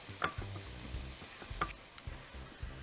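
Chopped mushrooms fry in a pan while żurek soup is prepared, a quiet, close sizzle broken by a few scraping stirs and light clinks.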